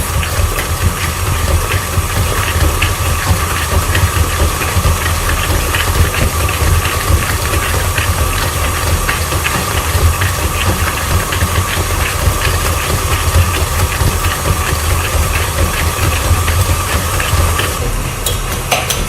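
Electric mixer creaming white chocolate cake batter until fluffy, a steady loud whirring drone that runs unbroken throughout.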